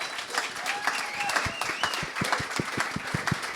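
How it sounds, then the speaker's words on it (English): Audience applause at a panel event, a steady mass of clapping with individual sharp claps standing out up close, some voices mixed in. "Can everybody give these guys a big round of applause?"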